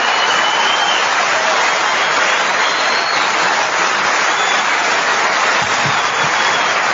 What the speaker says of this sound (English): They don't even know what they're clapping for.